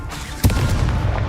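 A sharp magical blast from the Confringo spell in Hogwarts Legacy, a single punchy explosive burst that bangs suddenly partway in, then a rumbling tail of battle noise.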